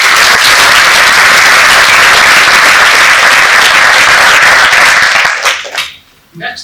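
Applause from a conference audience at a SIGGRAPH 2025 session, loud, dense clapping that holds steady for about five seconds and then breaks off into a few scattered claps and near silence.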